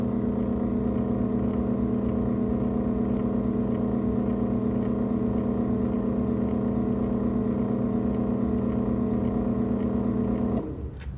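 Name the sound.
Chamberlain Whisper Drive 8100M garage door opener running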